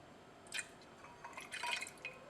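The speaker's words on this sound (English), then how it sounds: "now we'll add some concentrated hydrochloric acid to the solution" Concentrated hydrochloric acid poured into an ibuprofen solution makes a few faint, close drips and trickling splashes, quiet and brief, with no voices.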